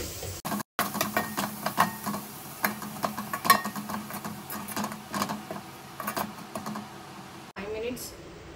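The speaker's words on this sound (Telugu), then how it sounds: "వాసన పోయేంత వరకు కూడా ఈ తురుగుని మొత్తం కూడా కలుపుకోండి." Grated carrot is stir-fried in a pan for carrot bagara rice, making rapid, steady scraping and clattering strokes of the spoon through the shreds, close and fairly loud, before stopping near the end.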